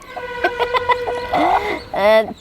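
A brooding hen clucks close by in a short run of soft, rhythmic clucks. A longer, louder drawn-out call follows near the end.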